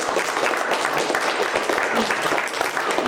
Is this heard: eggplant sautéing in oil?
no